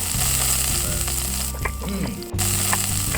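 Loud, continuous sizzling of meat on a grill in a yakiniku grilling simulator video game, with game-like synthesized tones and brief interruptions, crackling steadily throughout.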